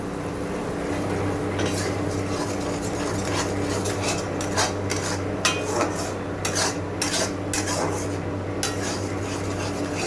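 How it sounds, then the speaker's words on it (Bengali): A turmeric-spiced masala is fried and stirred in a pan, with a continuous low sizzle under repeated scraping strokes of a metal spoon against the pan, growing busier in the second half, with a steady hum behind and no speech. "মশলাটা ভেজে নিব।"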